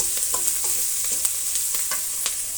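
Curry leaves hit hot oil with onions in a frying pan, giving a steady broadband sizzle with light crackles and occasional stirring scrapes, close and continuous with no talking.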